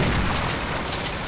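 Sustained gunfire from the Half-Life Sven Co-op video game, a dense, continuous barrage of shots and booms that stays loud throughout with no pauses.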